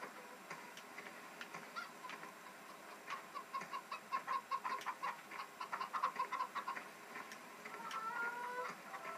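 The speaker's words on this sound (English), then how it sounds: "these chickens are just really lazy and don't want to lay eggs" Chickens in the farming game Farming Simulator 2015 cluck in quick rhythmic bursts, moderately close, with a few ticking background sounds and no talk.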